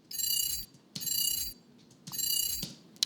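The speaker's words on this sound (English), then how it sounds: "Then we have this steampunk sound as it turns into the dashboard." Steampunk mechanical effect for a Lamborghini Revuelto cinematic as the car turns into the dashboard: three bursts of ratcheting, whirring clockwork with bright ringing tones, evenly spaced and fairly quiet, ending in a small click.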